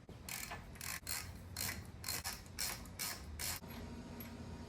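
A wrench works a brake caliper bolt loose on a lifted Jeep Wrangler, giving a close series of rhythmic ratcheting clicks in short bursts with brief pauses, alone with no talk.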